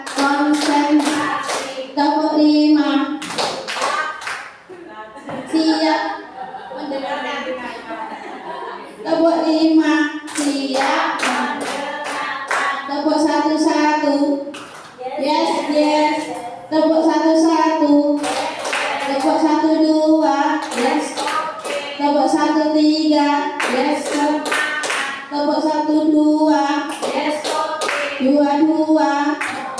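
A group of schoolchildren claps along in a counted classroom routine, bursts of sharp hand claps alternating with chanted voices in a steady, repeating rhythm that runs the whole time, loud and close.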